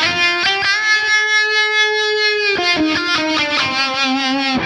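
Electric guitar played through a Fractal Audio FM9 with a harmonic tremolo, picked notes and a held chord wavering in a smooth, rhythmic pulse, loud and without talk.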